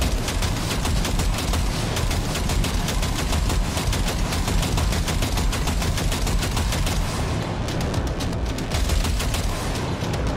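Sustained automatic gunfire from a Cyberpunk 2077 firefight rattles in a fast, steady stream of loud, close shots, with a brief lull before the bursts resume near the end.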